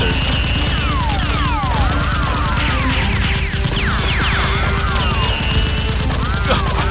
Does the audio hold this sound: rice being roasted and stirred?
no